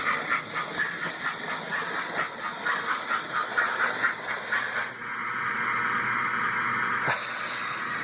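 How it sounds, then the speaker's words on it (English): An American Flyer Franklin model steam locomotive, rebuilt as a Lincoln funeral train, chuffs in a quick, even rhythm of soft puffs for several seconds, then gives way to a steady close hiss. "I think the chuff sound is absolutely wonderful."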